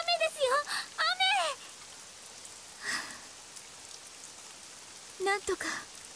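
Steady hissing rainfall in the anime fantasy game Granblue Fantasy, a constant wash of noise beneath character voices speaking over it at the start and end.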